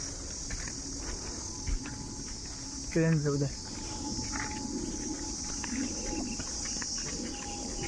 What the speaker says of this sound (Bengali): ঝিঝি পোকার আওয়াজ যদি থাকে না অটোমেটিক গাটা একটা শিউড়ে উঠবে